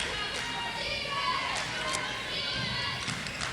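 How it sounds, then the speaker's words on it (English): Crowd at a 1995 women's college basketball game, Buena Vista against Loras, a steady far-off murmur of spectators with faint thuds beneath a commentator's voice. "we have quite a crowd here for the women's game tonight"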